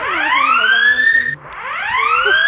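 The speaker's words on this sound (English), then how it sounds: "Are your alarms going off?" Loud, close electronic alarms wail in repeating rising sweeps, cutting out briefly before starting again.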